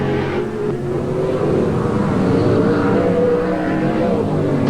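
Touring cars race in a 1986 NSW Sports Sedan round, including the Winfield number 2 car, a loud sustained engine roar that swells and shifts as cars pass near.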